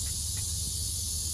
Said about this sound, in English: The cicadas were so loud the entire time.